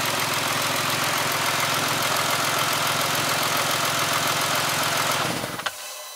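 A car engine with a leaky exhaust idles steadily and close by with a throbbing, knocking rumble, then is switched off and quickly goes quiet.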